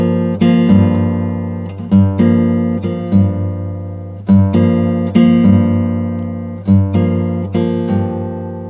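Bossa nova guitar playing the second half of a bar, plucked bass notes with syncopated chord stabs repeating in a steady lilting pattern, close, sustained and unaccompanied.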